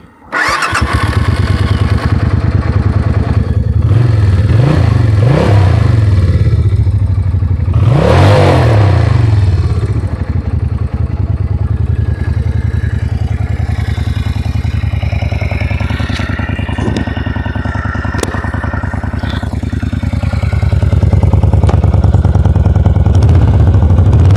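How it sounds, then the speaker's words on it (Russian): A Suzuki Intruder VS400 motorcycle engine cranks and catches, then idles loudly up close with a few throttle revs rising and falling over a steady rumble. "теперь все хотят услышать звук мотоцикла. Заводим."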